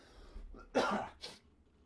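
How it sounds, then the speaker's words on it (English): A single person coughs twice in quick succession, close and fairly loud, with a quiet breath before and nothing else around it. "Now I have to cough."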